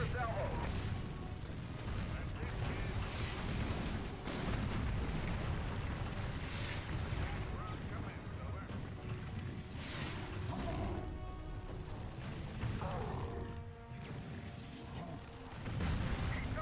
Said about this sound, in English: Fire a salvo.